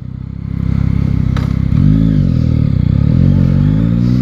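Yamaha MT-09 2021 Euro5 motorcycle engine at low speed, a steady close engine drone that rises slightly in pitch and level as it pulls gently, with faint wind and mechanical clatter.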